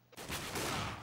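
Gunfire in the video game CS:GO, a dense burst of shots breaking in suddenly after a brief quiet start and holding loud and continuous for about a second.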